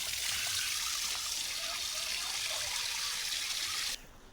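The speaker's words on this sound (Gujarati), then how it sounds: "બોટલમાં પાણી ડાયરેક્ટ ભરવાનું ચાલુ કર્યું" Water filling a bottle directly for pani puri, a steady bright trickling pour that runs for about four seconds and then stops abruptly.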